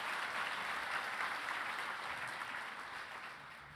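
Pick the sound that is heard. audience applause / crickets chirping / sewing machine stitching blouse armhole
audience applause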